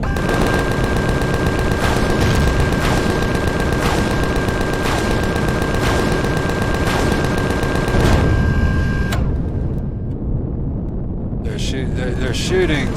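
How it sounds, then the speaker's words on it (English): Rapid, loud automatic gunfire from enemies shooting through a building in the video game Empyrion, continuous bursts that cut off near the end, leaving quieter game sounds. "there's some guys in the top that are shooting at me through the building"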